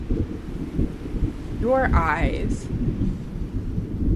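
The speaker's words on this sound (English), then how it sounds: "you hear the thunder." Deep, rolling thunder rumbles steadily in the background of a tabletop role-playing podcast, a low continuous roar under a brief spoken line.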